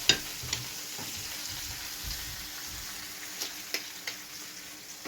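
Courgettes frying in a pan, a quiet steady sizzle with soft stirring and occasional light clicks of a utensil against the pan, no voices.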